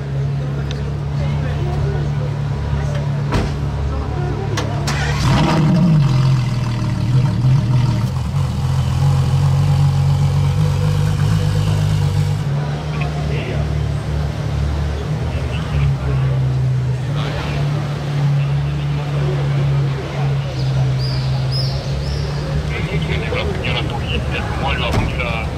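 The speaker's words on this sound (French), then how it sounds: "Et là on va avoir le démarrage de la Ferrari." A Ferrari 355 with British plates, parked in Monaco, cranks and fires up, then settles into a steady, low idle that runs on nearby, with people talking over it.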